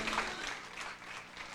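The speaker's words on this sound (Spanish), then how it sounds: "Le damos un aplauso al Rey de Reyes y al Señor de Señores." A church congregation gives a short burst of applause, fairly quiet and continuous, with scattered claps blending into a soft crowd wash.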